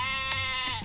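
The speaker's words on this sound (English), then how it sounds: "I'm just gonna turn down some of those sheep noises now" Sheep bleating in a video game, a single loud, wavering nasal bleat close up that holds almost the whole moment before a short thump at the end.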